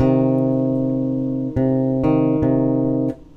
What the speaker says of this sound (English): the next interval we can get is a distance of three semitones, and we call that a minor third.